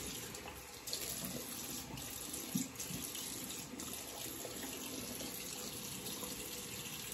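A tap running water over shaving gear, including a polished stainless steel razor, being rinsed at a sink, a soft continuous splashing hiss with a few faint knocks, steady and fairly quiet with no talk.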